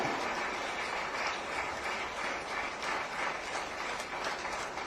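Audience applause at a Tamil public speech event, a steady, even wash of clapping throughout at moderate level, with no voices standing out.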